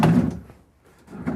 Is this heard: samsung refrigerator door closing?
yes